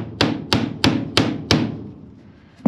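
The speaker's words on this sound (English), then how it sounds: "Clips in and he nails it down." Hammer blows nail clips onto plumbing pipe during a bus conversion, five sharp, evenly spaced strikes close by with ringing decay and a sixth hit starting at the very end.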